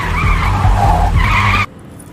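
A car skids hard to a stop on a road, a loud, close tire squeal over engine roar that holds for about a second and a half, then cuts off abruptly into near silence.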